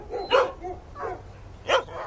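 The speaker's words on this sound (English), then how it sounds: "This is my best dog, Perot." Barks from a sled dog in a 1990s Yukon film: three or four sharp, close barks come in irregular bursts over a low background hum, with no talk in between.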